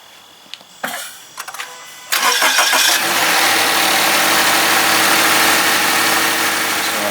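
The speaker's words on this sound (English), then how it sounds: "we'll start the car for a sec" A Subaru BRZ engine cranks briefly after a few clicks and catches, then settles into a steady, loud idle right after an oil change, heard up close with no talking.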